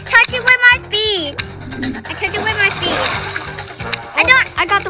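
Splashy water effects from the Wild Kratts video game burst out loudly and repeatedly while young girls talk and exclaim over the game sounds.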